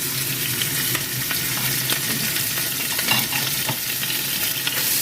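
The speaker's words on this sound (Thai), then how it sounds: "เดี๋ยวเราจะผัดหมูพอให้ สุกหน่อยๆนะคะ" Steady, close sizzling and frying of minced pork in a hot wok, with frequent scraping and stirring clatter running throughout.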